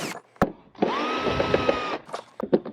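A power drill unscrewing parts of an electric unicycle whirs steadily for about a second, with short bursts of clattering tool noise before and after.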